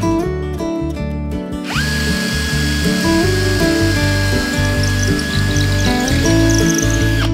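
A power drill whirs steadily and loudly, its pitch holding mostly level with slight shifts as it bores a blind hole in wood for a wooden desk lamp; a rising whine starts it after a brief lower hum.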